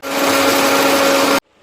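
A kitchen mixer grinder whirring steadily as it blends lassi with cumin and salt, loud and close with a steady motor hum, then cutting off abruptly.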